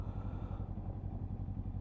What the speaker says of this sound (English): you can just basically roll to a stop in first gear, or any gear you want really, it won't stall